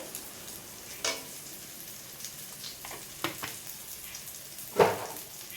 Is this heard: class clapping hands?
no